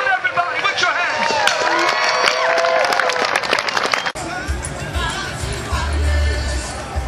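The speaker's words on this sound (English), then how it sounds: "Un aplauso fuerte. give a strong applause." A crowd at an outdoor March for Marriage rally in Washington claps and cheers, with shouts and whistles over the applause, then a cut to a lower rumbling crowd murmur.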